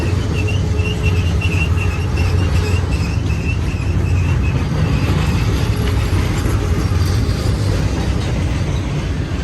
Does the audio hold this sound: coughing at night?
no